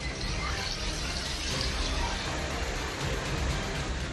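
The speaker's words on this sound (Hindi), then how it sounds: "सड़कों पर बहते सैलाब की रफ्तार" Floodwater surges along a road during heavy rain in Tonk district, Rajasthan, a dense, continuous gushing roar held steady and close for the whole stretch, with no voices over it.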